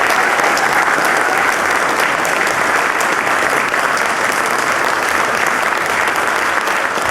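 Sustained, dense round of applause from a party conference audience at the UKIP 2007 annual conference, loud and even throughout with no speech over it.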